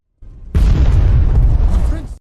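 A lifeboat blowing up in animated Avatar: The Last Airbender footage, one loud booming blast that hits after a brief lead-in and rolls on as a dense, sustained roar for over a second and a half before cutting off.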